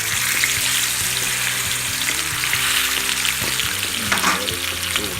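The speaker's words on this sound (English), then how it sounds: "It's gonna sizzle a little bit." A cream cheese stuffed burger sizzles in a hot pan, a loud, steady close crackle and hiss with faint stirring and scraping underneath.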